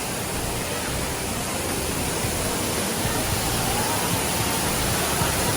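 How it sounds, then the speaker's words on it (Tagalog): A man-made waterfall in the Mandai rainforest, Singapore, roars as a steady, dense wash of falling water close by, with no break across the whole stretch. "Man-made na waterfall."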